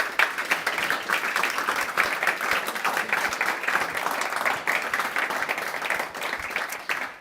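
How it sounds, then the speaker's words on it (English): Sustained crowd applause at a London product meetup, dense steady clapping for about seven seconds, fading slightly at the end. "Give everyone a round of applause for today."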